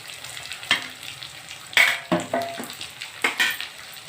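Kudumu frying in a pan, with a steady soft sizzle broken by several sharp stirring scrapes and clatters of a utensil against the pan, close and fairly quiet, no voices.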